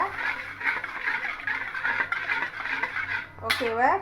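Metal utensil scraping and clinking steadily against a pan in repeated stirring strokes through vegetarian fish ball sambal, with a brief sharp clink near the end.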